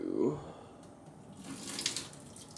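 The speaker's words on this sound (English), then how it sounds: "drain that water" Water from a pot of cooked cauliflower, broccoli and carrots being drained, a brief splash and gurgle at the start followed by a hissing, pouring rush that swells toward the end.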